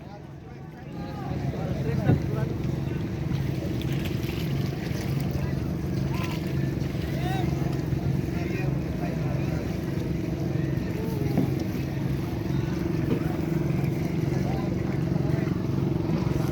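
Boats crowd a busy fishing harbour at Subic, heard as a steady low rumble of engines and water. Wind buffets the microphone and scattered voices talk in the background throughout.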